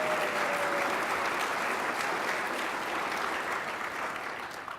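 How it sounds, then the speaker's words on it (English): Loud, dense applause from a gala audience at a Colorado State University Green & Gold Gala, a crowd clapping steadily and evenly throughout before tapering slightly at the end. "deserve a big round of applause for their efforts in that area"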